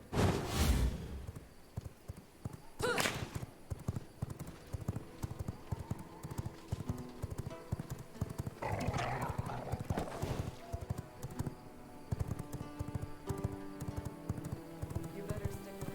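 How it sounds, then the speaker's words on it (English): Horse hooves clip-clopping in the V Rising vampire survival game, a steady run of hoofbeats with a neigh early on, louder near the start and then continuing under game music and sounds. "Actually, I'm going to steal a horse."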